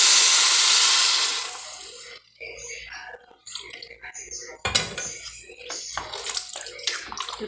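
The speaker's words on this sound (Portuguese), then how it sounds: "Olha, minha gente, botar aqui a água," Water is poured into a pot of sautéed rice with pumpkin and Tuscan sausage, starting as a loud rushing pour that fades, then giving way to sizzling, bubbling and scattered clinks of a pot, with a voice talking at times.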